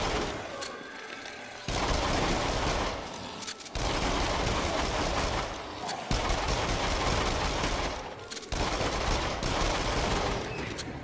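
Dense bursts of gunfire in the VR shooter Rush of Blood, loud and near, with rapid fusillades and mechanical clatter in several sustained stretches separated by brief pauses.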